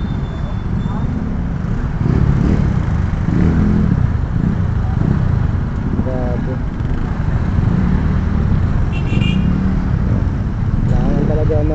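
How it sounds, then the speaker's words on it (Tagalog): Heavy city traffic with cars and motorcycles, a dense continuous engine rumble with occasional revs, passing bikes and horn-like tones, while someone talks over it. "Grabe yung traffic talaga."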